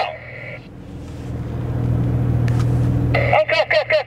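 A Porsche 911 Dakar climbs uphill off-road in a quarry, its engine a steady low rumble that grows louder, then gives way to talking near the end.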